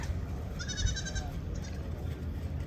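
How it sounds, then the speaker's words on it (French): Goats on Capri give a brief, faint, wavering bleat against soft outdoor background noise, followed by a shorter second call. "Il y a des chèvres."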